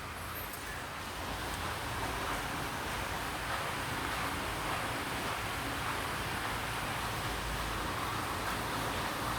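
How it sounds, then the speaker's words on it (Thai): Constant hiss of steady rain falling, a dense even wash of noise with no voices and no pauses. "อาจจะมีเสียงหน่อยนะครับ ฝนมันตกครับ ตกไม่หยุดเลย"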